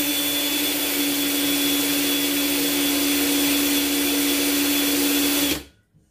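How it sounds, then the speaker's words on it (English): A cordless drill driving a Giraud Tri-Way 223 trimmer runs as a steady, loud, high-pitched whir for about five seconds, then stops abruptly and winds down to silence. "So let's see how this works in a cordless drill."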